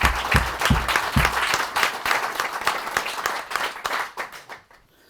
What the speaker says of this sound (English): Setting up a Department of Employment, yeah, deserves a round of applause.